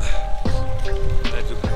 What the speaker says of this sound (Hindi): बारिश अलग से हो रही है